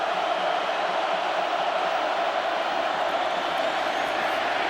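A huge stadium crowd at the 2006 Michigan at Ohio State football game makes a steady, dense roar that holds evenly throughout, with no single voice standing out.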